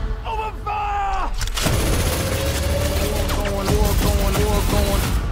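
Gunfire in a Black Adam movie trailer: a heavy volley of shots and booms crashing over a dense, loud cinematic score, sustained and close.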